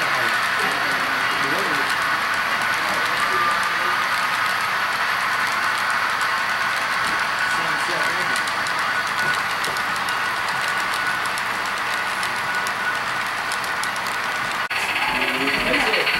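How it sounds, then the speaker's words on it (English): A model railroad train passes during a club open house, giving a continuous steady rumble and hiss with light wheel clatter, with voices in the background. "And here comes the private car train."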